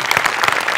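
A theatre audience at a Marathi comedy show breaks into brief, dense applause, a burst of many hands clapping close together.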